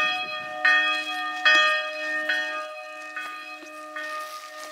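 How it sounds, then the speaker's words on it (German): A swinging church bell ringing out in slow, regular strikes about once a second, each a bright metallic clang with a long humming decay, heard up close with the strokes gradually fading. "wie man die Glocke da so hin und her schwingen sieht"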